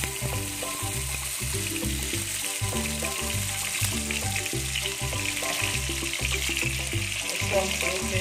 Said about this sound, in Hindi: अब हम इनको फ्राई कर लेते हैं घी में